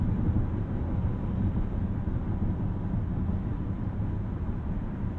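Steady low road and tire roar fills the cabin of a 2022 Toyota bZ4X electric SUV coasting on a coarse highway surface, a constant dull rumble with no voices or other sounds.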